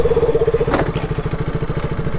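A motorcycle engine idles with a rapid, throbbing pulse, then a short clattering crash as the bike tips over during army training riding, the engine running on afterward.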